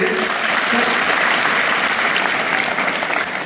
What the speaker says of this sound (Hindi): अभी उसका ताली बजाओ पहले।